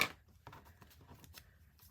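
Paper scrap being trimmed to 4 inches on a Versamat cutting mat, a quiet trimmer or scissor cut giving a few soft, close snips and slides in a near-silent room.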